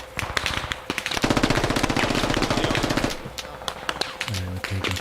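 Gunfire in the tactical shooter game Squad, with scattered single shots followed by a long, rapid burst of automatic fire, then more sporadic shots.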